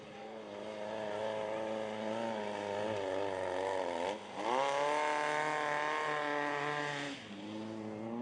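A Volkswagen rally car, number 1122, racing through a riverbed stage of the Norra 500 off-road race, its engine note loud and close, revving and shifting in rising and falling pulls with a brief dip midway.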